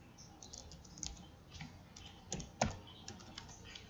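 Quiet typing on a computer keyboard, a steady run of soft close clicks and key taps with a few firmer strikes, no voices.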